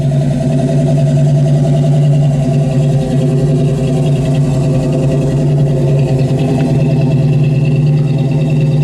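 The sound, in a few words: 1972 AMC Javelin 360 engine running through dual exhaust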